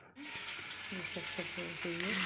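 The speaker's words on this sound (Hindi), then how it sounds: "यहाँ पे मछली फ्राई कर रही हूँ" Fish frying in a pan in a home kitchen, with a steady close sizzle running throughout while a voice talks over it in a series of short phrases.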